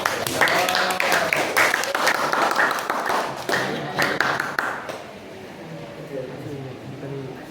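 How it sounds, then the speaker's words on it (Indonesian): A classroom full of people claps together for a presenting group, a dense burst of applause that tapers off and fades into quieter background murmur. "Beri tepuk tangan untuk kelompok 1."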